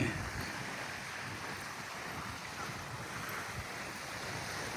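Steady broadband surf washes along a beach where turtles come ashore to nest, a continuous ocean roar with some wind buffeting the microphone and no distinct break in the rush.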